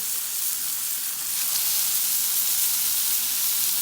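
Stuffed bacon cheese burgers sizzle steadily on a Blackstone griddle, a close, continuous bright hiss of frying fat with no talking.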